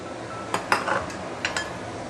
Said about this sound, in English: now you can actually scrape off the bottom. Don't worry about scraping your stainless steel wok.